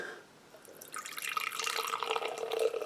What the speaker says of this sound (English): Trying to pour slow so I don't get too much foam.